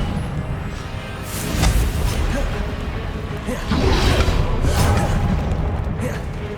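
Confringo explosive spell blasts in Hogwarts Legacy, a couple of booming bursts with whooshes amid dense battle noise, loud and close.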